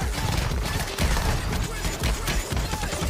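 Shotguns fire in an online video game, a dense run of loud, repeated blasts close together, with players talking over the gunfire.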